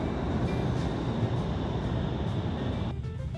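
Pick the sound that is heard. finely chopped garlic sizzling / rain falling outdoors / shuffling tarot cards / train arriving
train arriving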